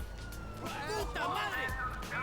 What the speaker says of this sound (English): The nanosecond I pressed steal is when I heard the siren.